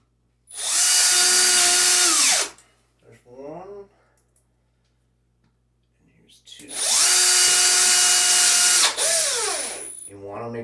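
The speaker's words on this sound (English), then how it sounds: "will run the two screws right through the face of the trim, right up in to the old trim to hold the light" A power drill drives screws through the face of light trim into old trim during an LED light install, with two loud, sustained whining bursts that ramp up and wind down, separated by quieter handling sounds and a few spoken words.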